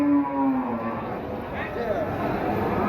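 Cattle at the Wirosari livestock market give a low, drawn-out moo close by, over a steady hubbub of market noise and faint background voices.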